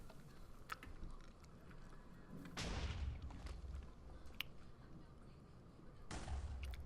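A small TNT hybrid cannon in Minecraft on a factions server fires twice, each a quiet, muffled burst of blast noise a few seconds apart, over a low background with soft clicks.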